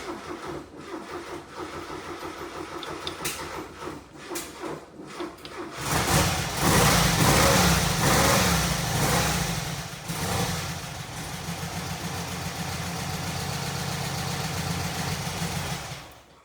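An old car's carburetor engine with fuel fed straight into the carburetor cranks unevenly, then catches and settles into a loud, steady, rough-edged idle that keeps running close by without any voices.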